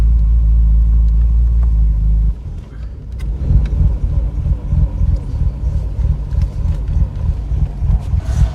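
A Ford Sierra Estate Mk1 4x4 Ghia with the 2.8i engine rumbles loudly close by, its steady low drone shifting after about two seconds into a rougher, uneven idle with wind buffeting the microphone.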